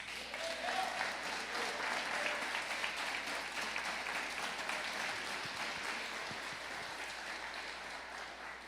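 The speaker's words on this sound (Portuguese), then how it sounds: "Bate palmas para Jesus." A church congregation applauding during a communion service, dense sustained clapping from many people in a hall, steady for several seconds before slowly thinning out.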